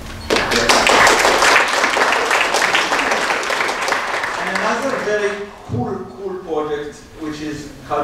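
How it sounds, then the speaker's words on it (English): A conference room audience claps in a burst of dense, loud applause that tapers off after about five seconds, followed by someone talking. "but it deserves clapping."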